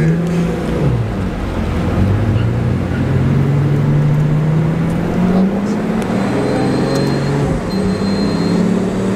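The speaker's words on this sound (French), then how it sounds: "T'entends le turbo qui souffle derrière, Charles?" Engine of a multi-million-euro supercar with its turbo blowing, a steady loud droning rumble that slowly rises in pitch, with faint background noise and no talk.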